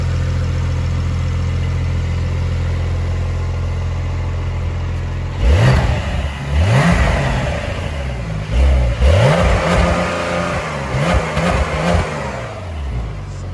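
A stock 2020 Porsche 911 Carrera S with quad exhaust idles with a low steady drone, then revs hard in several loud rising and falling bursts, close by with no talk.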